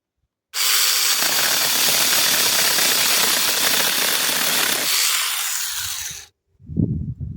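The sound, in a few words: mini chainsaw cutting wood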